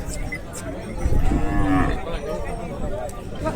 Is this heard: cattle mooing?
yes